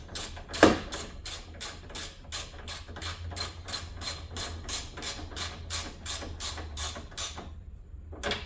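Screws being driven into the front light assembly of a 1997 Toyota Corolla give a fast, steady run of close ratcheting clicks, about two per second, with a low hum beneath, stopping shortly before the end.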